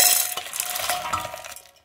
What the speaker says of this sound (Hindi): तो ये शीरा मैं यहाँ पे इस बर्तन में डाल रही हूँ